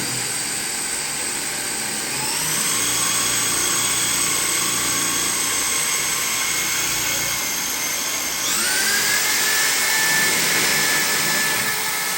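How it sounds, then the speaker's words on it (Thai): An electric drill bores holes in a bathroom wall for a mirror hanger, with a whining motor that spins up twice, rising in pitch each time, and runs continuously and close by. "ตอนนี้ช่างกำลังเจาะนะคะสำหรับที่ห้อยกระจกค่ะ"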